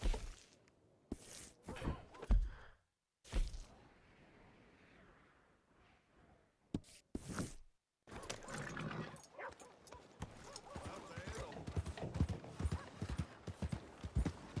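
Horse hooves clip-clopping in Red Dead Redemption 2, with intermittent bursts early on, then a dense, fast run of hoofbeats at close range, accompanied by other game sounds.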